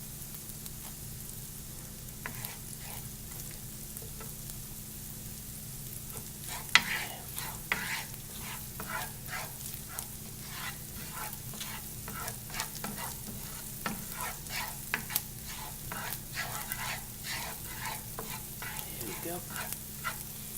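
Food sizzles steadily in a pan while being stirred for Japanese spaghetti, a continuous frying hiss broken by frequent scraping clicks of the utensil, close and fairly quiet, with a brief spoken word.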